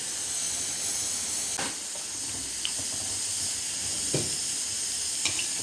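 Bhaji fritters fry in hot oil with a constant sizzling hiss, broken by a few sharper crackles and spits, heard at moderate volume with no speech.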